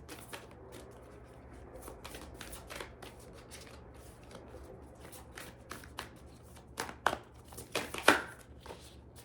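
Tarot cards are shuffled in quick, papery riffles and flicks close by, a soft steady patter that grows sharper and louder toward the end.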